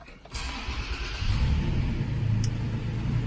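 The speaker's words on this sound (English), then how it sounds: "Let's put your foot on the brake, start it up." A 2018 Toyota Tacoma TRD Sport pickup starts up: a brief crank, then the engine catches and settles into a steady, close low rumble with no talk over it.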